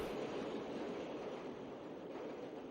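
A train rolls past in an anime scene, a steady broadband rumble and rush of wheels on rails held at an even, moderate level for a few seconds with no voices.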